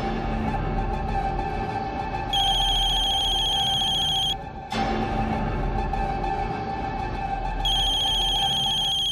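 A telephone rings with an electronic ringtone during a Hindi TV drama scene, repeated high chiming bursts over a steady background hum, pausing briefly midway before resuming, with no speech.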